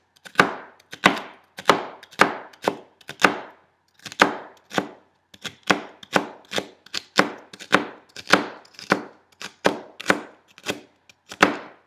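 Celery sliced thinly with a knife on a cutting board, about two dozen crisp, sharp chops in a fast, steady rhythm with short pauses, close and clear, with no talking.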